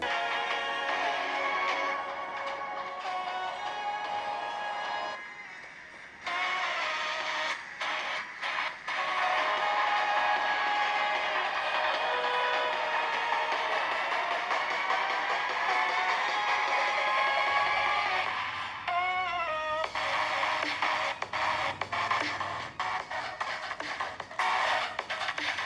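A Sony Xperia XZ1 phone speaker plays music with punchy bass and clear sound, a steady, fairly loud stream lasting about 25 seconds with brief dips, no talk.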